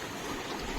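Village river water flowing steadily in a continuous, even wash of noise with no break, close and moderately loud, with no voices.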